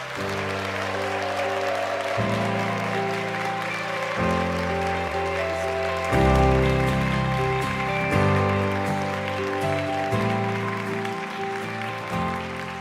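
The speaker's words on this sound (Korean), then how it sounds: "제가 설교하면서 이렇게 박수 받아본 적이 없습니다." A church congregation at a Friday worship festival applauds steadily and warmly to welcome a guest pastor, the sustained clapping blending with loud, held keyboard chords that change every couple of seconds.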